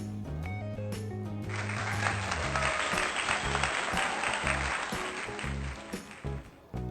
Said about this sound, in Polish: poproszę brawa dla mnie!